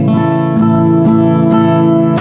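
Steel-string acoustic guitar fitted with a G7th Performance 3 capo, strummed a few times in a steady rhythm, each chord ringing bright and close with sparkling highs before the next stroke.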